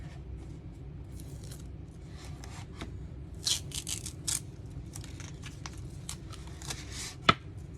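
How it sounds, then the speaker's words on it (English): Tape is peeled off the backing of a sign board, giving a series of soft ripping and rubbing crackles in short irregular bursts close by over a low steady room hum, with one sharper tick near the end. "I have to get that backing off, so I'm going to remove this tape."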